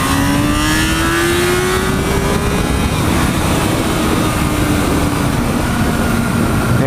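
A stock 98-horsepower inline-four motorcycle engine revs loudly and steadily at high pitch, its note sliding gradually up and then easing back, close and continuous throughout with no other sounds.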